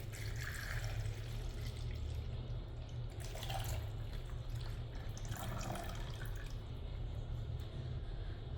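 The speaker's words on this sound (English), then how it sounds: "I'll open this and pour it here" Water poured from a beaker into the reservoir of a Morphy Richards Europa drip coffee maker, a steady close trickle and splash running throughout at low level with no talk.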